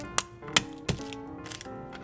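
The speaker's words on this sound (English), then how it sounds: "after I'm done chopping up the onions, I'm going to dice up mince the garlic" Knife strikes chopping onions on a cutting board in a home kitchen while making chili, three sharp separate taps then a few softer ones, close and clear with no talking.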